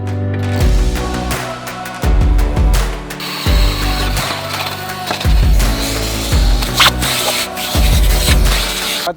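A power drill whirs in repeated loud bursts, biting into material with grinding, rattling noise between short pauses, while mounting off-road lights on a vehicle.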